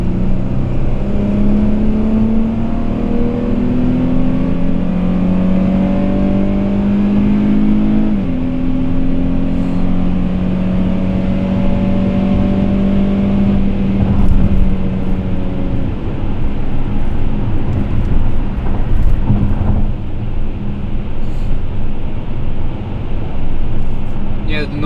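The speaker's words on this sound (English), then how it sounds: "It does sound like a V6." A Dodge Challenger GT with a V6 is opened up on a rough road, its engine note climbing through the gears in steady rising pulls with tire and road roar, while people talk inside the cabin.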